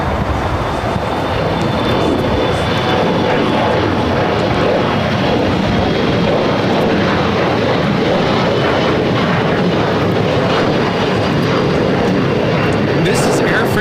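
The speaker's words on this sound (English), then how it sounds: "This is Air France Flight 21 taking off to Paris on the 777-300ER." An Air France Boeing 777-300ER jet takes off from LAX with a loud, sustained engine roar that fills the whole stretch, broad and steady at close range.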